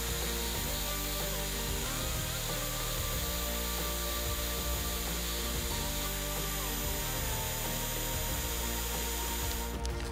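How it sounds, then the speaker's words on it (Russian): A tool cuts a small groove a couple of millimetres from the edge of a homemade fishing lure, giving a steady, close grinding rasp that runs unbroken for about ten seconds with no talking. "Пару миллиметров от края делаем небольшой паз."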